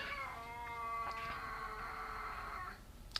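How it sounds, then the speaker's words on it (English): A pet cat lets out one long, drawn-out meow lasting a few seconds, close and clear, followed by a short faint click, with no talking. "The cat agrees."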